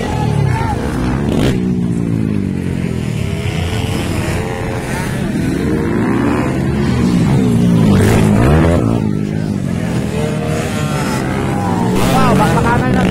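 Motorcycles racing in an open mix category event, engines revving and whining loudly and continuously, rising and falling as bikes pass close by.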